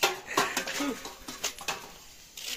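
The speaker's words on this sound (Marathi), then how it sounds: "आता सगळ्यांची भांडी घासतात." Pots, pans and metal utensils being scrubbed and clattered together during washing-up after a Konkan-style biryani party, with sharp clinks and scrapes at an irregular rhythm, close by and moderately quiet.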